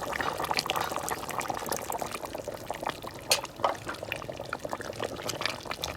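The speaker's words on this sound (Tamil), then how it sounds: "தேங்காய் பால் ஊற்றலாம்" Coconut milk is poured into a simmering meat curry, producing a soft liquid pour and bubbling near the pan, fairly quiet and steady, with no voices.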